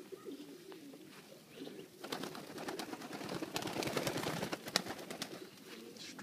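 Pigeons coo softly in a breeding loft, low throaty murmurs overlapping with rustling and a few wing flaps, quiet and close with no talking.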